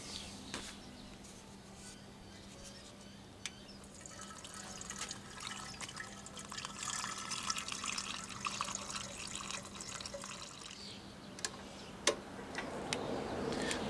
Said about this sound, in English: first step, we're going to add some water to the tanks.